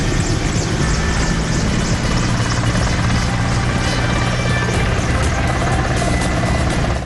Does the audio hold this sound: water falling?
no